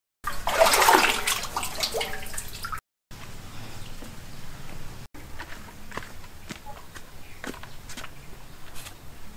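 Water drawn up from a seven-metre deep well with a basket, splashing and sloshing loudly at first, then trickling and dripping more quietly with scattered knocks and small thuds.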